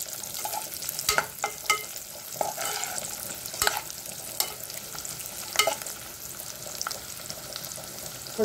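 Ingredients for sweet pongal, raisins among them, sizzle in a pan while a spoon stirs and scrapes, producing a steady frying hiss broken by frequent clinks and scrapes, close up with no talking.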